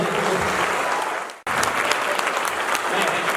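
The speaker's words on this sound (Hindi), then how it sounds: "आपकी तालियां।" Sustained, dense applause fills an auditorium at a poetry recitation, broken by a brief cut midway, then resuming at the same steady, loud level.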